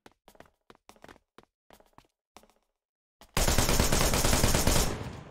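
Shooting from cover in the game Wanted: Dead: a handful of sharp, separate gunshots crack out at irregular intervals, then a loud, sustained burst of dense automatic fire roars continuously for about two seconds before cutting off.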